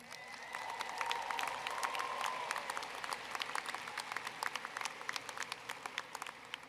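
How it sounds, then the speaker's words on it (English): Applause from a university commencement crowd honoring graduates' parents, dense steady clapping that swells early then thins into scattered individual claps toward the end. "Let's get some applause for some parents"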